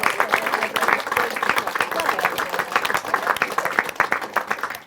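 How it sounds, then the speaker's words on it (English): An audience at an annual general meeting applauds the trustees and staff, with sustained clapping of many individual hands, moderately loud and uneven in texture, fading at the very end. "So I would like us to give everybody, our trustees, our retiring trustees, and and all our members of staff, a round of applause."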